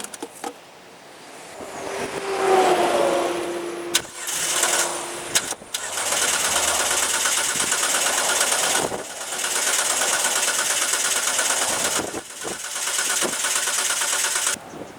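A small engine of a Magna dirt track racer runs loudly with a rattling, knocking drone, cutting in and out in several long stretches, with brief pauses between, as it pumps fuel into a bottle.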